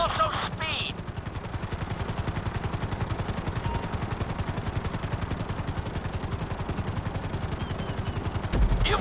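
Helicopter flying during flight school in GTA 5 on PS5, a steady rapid rotor chop that holds loud and even throughout, with a brief higher tone near the start.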